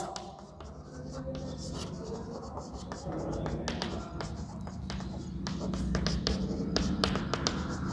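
A pen scratches across paper with quick, continuous strokes and taps, steady and close, as an invitation reply is written out by hand; a voice murmurs faintly underneath.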